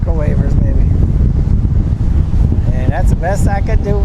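Strong wind buffets the microphone at Port Canaveral during a cruise ship sail away, a steady loud rumble and roar throughout, with a voice speaking briefly near the start and again toward the end.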